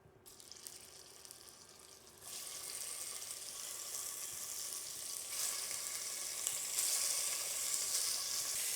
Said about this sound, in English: I'm just going to add a little bit of oil on the bottom and throw in a couple pieces of the brisket